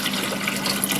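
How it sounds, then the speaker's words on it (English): Water pours into an electric Chefman hotpot in a steady, close rush with a fairly even level and no talking over it. "Put some water in."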